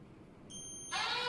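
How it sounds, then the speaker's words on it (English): An electronic alarm on a HydroBot water tank, set off by an ultrasonic distance sensor, starts with a steady high multi-tone beep and then swells into a louder, harsher buzzing tone, close and continuous. "If it's below 20 cm high, the sensor will trigger and the alarm will be on."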